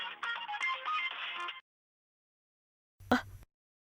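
Incoming-call ringtone on a phone in a Telugu TV serial, a bright melodic tune playing for about a second and a half, then silence and a short separate electronic blip near the end.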